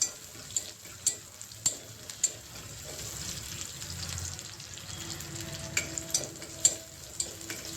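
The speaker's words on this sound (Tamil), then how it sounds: "இப்போ கொஞ்சம் வதக்கிக்கிடுவோம்." Onions and urad dal sauté in a pan for homemade sambar, giving a soft, continuous sizzle and crackle with repeated sharp clinks and scrapes of a spoon stirring against the pan, close by.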